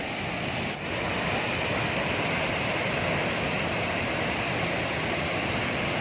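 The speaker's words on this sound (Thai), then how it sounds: "น้ำตกไหลมาจากผาสูงเนาะ" Chat Trakan waterfall in Phitsanulok, swollen by storm rains, pours from a high cliff as a loud, unbroken roar of rushing water, steady and close throughout.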